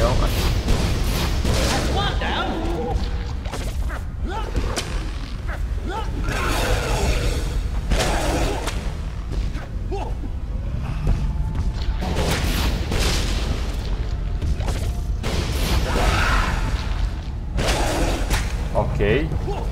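Repeated loud cannon booms from the video game Ice Age: Dawn of the Dinosaurs, thudding in quick succession over a continuous noisy backdrop, with voices talking throughout.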